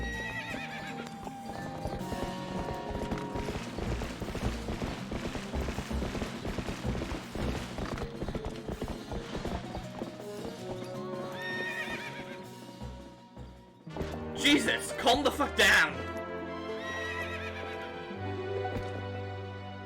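A horse neighs and whinnies repeatedly with clip-clop hooves over a steady game music bed in The Legend of Zelda: Twilight Princess HD, and someone briefly shouts partway through.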